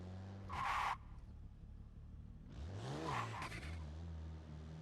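Porsche Macan engine in Forza on the Lime Rock track, revving hard in two loud full-throttle bursts with rising pitch and a brief tyre squeal, separated by a lower steady drone.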